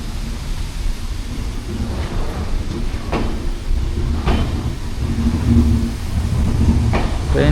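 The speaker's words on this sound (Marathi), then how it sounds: "चला मंडळी, ट्रेन सुटलेला आहे." Train pulling away from a station near Ratnagiri, a low continuous rumble with a few sharp clanks and knocks, moderately loud and steady, with no speech.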